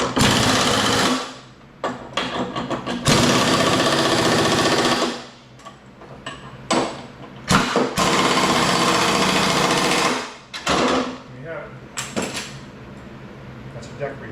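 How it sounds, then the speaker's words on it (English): An impact wrench fastens a mower blade on a John Deere E100 series lawn tractor deck in repeated loud, rattling bursts, separated by short pauses and workshop clatter. "we're going to use the impact to put this on."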